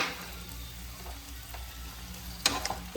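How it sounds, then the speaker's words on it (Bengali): Kabuli chickpeas for a street-style Bengali ghugni fry lightly in a pan with a soft steady sizzle. Faint stirring taps run through it, and a sharper clatter comes near the end. "হালকা করে ভাজবো। এখন ভাজা হবে"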